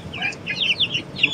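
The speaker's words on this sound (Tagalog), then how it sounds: "Ito po ang klase po ng mga manok na ito ay Rhode Island Red Dark Mahogany guys." Rhode Island Red Dark Mahogany chickens, breeder birds kept on a small farm, give a few soft clucks and short calls at close range, with no talk over them.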